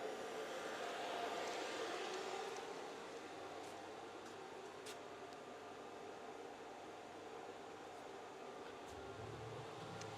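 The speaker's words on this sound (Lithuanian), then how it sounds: "Vakuuminis siurblys." Vacuum pump on a PGCNC 2030 furniture-making CNC router runs with a steady, close whirring hiss for the whole stretch, and a low rumble swells in near the end.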